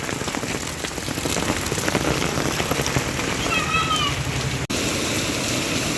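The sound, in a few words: heavy rain falling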